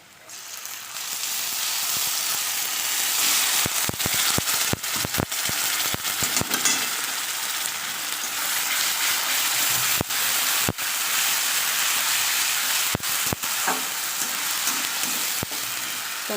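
A ground paste of green chilli, ginger, garlic, cumin, coriander and tomato hits hot oil with fried onions for a rohu fish curry, giving a loud, continuous close sizzle broken by sharp clicks of stirring.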